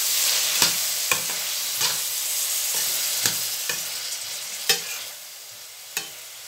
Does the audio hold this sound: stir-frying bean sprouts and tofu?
yes